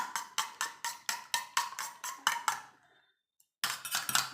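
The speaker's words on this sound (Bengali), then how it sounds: "ডিমটাকে ফাটিয়ে নেব।" An egg is beaten in a bowl with a utensil for Bengali egg chops, about a dozen quick rhythmic clinking strokes up close, then a short pause before the beating resumes.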